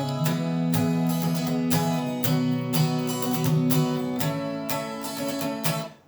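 Busy, driving strummed rhythm on guitar for an instrumental, played steadily on its own with sharp repeated chord accents.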